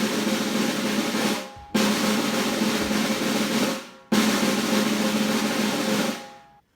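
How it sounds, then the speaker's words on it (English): Three sustained snare drum buzz rolls, each lasting roughly two seconds with a sharp start and a fading end, played as whole-note-length held sounds with short gaps between them and no talking. "we can do something called a buzz roll"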